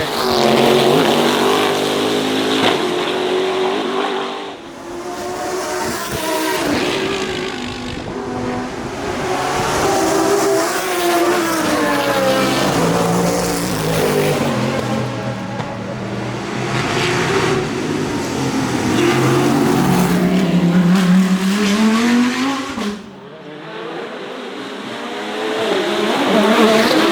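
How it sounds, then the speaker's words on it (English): A Lexus race car with a Japanese UZ V8 engine roars past on a street circuit, loud revving passes rising and falling in pitch with a dip between runs, no talk over it. "You hear that Lexus and that UZ V8?"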